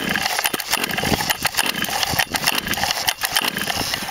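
A Stihl-style 644 chainsaw with a hard-starting carburetor runs steadily just after firing, its engine a loud, dense, continuous roar with slight fluctuations and no voices.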